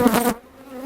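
Honey bees hum in a brief close buzz over an open deep hive box during an inspection, fading for a moment before swelling again.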